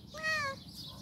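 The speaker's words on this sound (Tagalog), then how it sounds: "May pusa akong nadaanan." A cat gives a single short, clear meow close by, rising and falling in pitch, heard alone against faint outdoor background noise.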